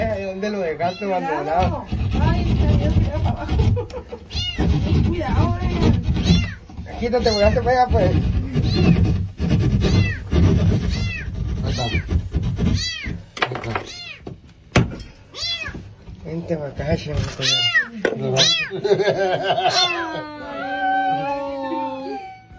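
A cat trapped inside a wall meows over and over, with loud, drawn-out, pleading cries that come in fits and starts. Talking and some knocking are mixed in throughout.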